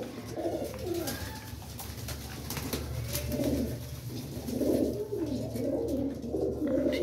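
Pigeons coo softly at night in repeated throaty, rolling phrases, several birds overlapping against a steady low background hum.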